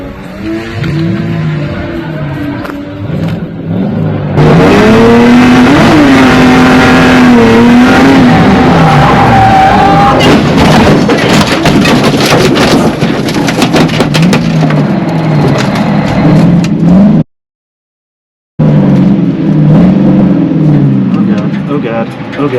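A drift car with loose handling, engine revving hard and accelerating near the microphone, with wavering engine pitch, tire squeal and rough wind noise, then a brief dropout before the roar resumes; a voice is audible under it.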